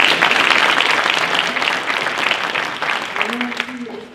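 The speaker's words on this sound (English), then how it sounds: "let's give all of our presenters our round of applause" Audience applause for presenters at a chamber of commerce economic event, a broad, continuous patter of clapping that gradually softens, with a voice briefly audible near the end.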